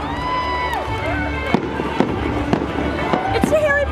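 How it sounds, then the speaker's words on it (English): A fireworks show after a convention, set to fandom music, with sharp bangs and crackles bursting at intervals, whistling rockets rising, and a crowd cheering and people talking underneath. "the post-con 20-minute fireworks show set to fandom music"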